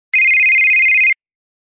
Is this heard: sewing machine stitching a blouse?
no